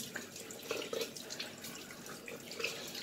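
Tap water runs steadily into a sink while facial wash is rinsed off, with soft splashes and drips from hands moving around the face, close and moderately quiet.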